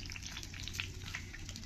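Five-spice and dry chilies fry in hot oil in a large wok. A steady low sizzle with small crackles runs through a brief stretch and stays fairly quiet, with no talking.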